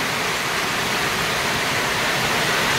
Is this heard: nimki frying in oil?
no